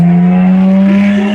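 A car engine drones steadily and close at a low pitch, with a faint rising whine near the end as it moves past, loud and continuous with no voices.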